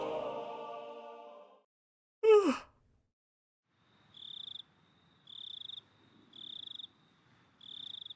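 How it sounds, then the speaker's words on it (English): Crickets chirping at night in the Higurashi visual novel, four evenly spaced bursts of shrill trilling against silence, preceded by a sung or moaning voice and a sharp gasping cry. "All I'm hearing is crickets."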